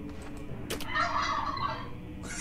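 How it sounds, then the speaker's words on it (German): A turkey gobble played through an Alexa smart speaker, a short loud burst of rapid warbling gobbles rising over a faint background hum, with no talking. "Alexa, wie macht ein Truthahn?"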